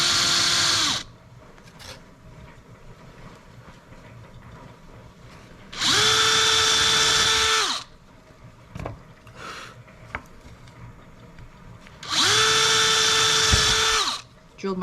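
A power drill bores holes into a wooden tape dispenser backed by a scrap wood board, with three loud whining runs of about two seconds each separated by quieter handling noise and talk.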